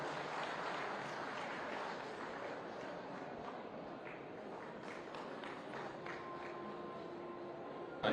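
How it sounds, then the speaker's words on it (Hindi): An audience claps at a hospital ceremony opening a cancer unit at Medanta with the Uttar Pradesh chief minister present. The applause is a dense, fairly distant patter held at a steady level for several seconds. "आप सभी एक बार जोरदार तालियां हो जाएं।"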